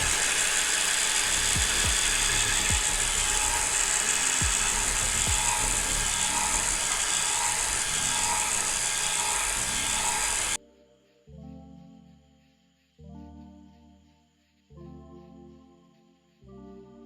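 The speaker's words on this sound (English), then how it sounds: "I will use my electronic mixer with this dough attachment" An electric stand mixer with a dough hook kneads Turkish pide dough made with sifted all-purpose flour, giving a steady loud motor whir for about ten seconds, then a few short separate bursts of whirring with pauses between.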